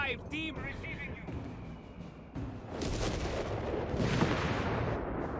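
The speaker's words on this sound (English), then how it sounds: "I think it's like a mortar that's firing at us" Mortar and artillery fire in the Company of Heroes 3 Africa campaign at El-Alamein, heavy repeated booms and crackling gunfire layered over a constant battle din, with voices talking over it.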